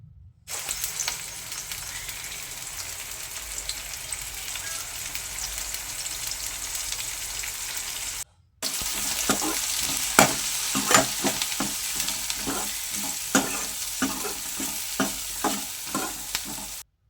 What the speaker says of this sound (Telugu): ఆవాలు జీలకర్ర వేసుకున్నాను తర్వాత ఆనియన్స్ పసుపు వేసుకొని అయితే మంచిగా కలపాలి ఫ్రెండ్స్